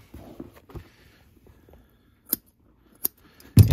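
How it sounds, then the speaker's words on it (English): Scissors snip through elastic boot liner fabric in a few sharp, close cuts, spaced out with quiet pauses and soft handling rustle between them, ending in a louder burst of cutting. "I'm going to trim away this elastic fabric"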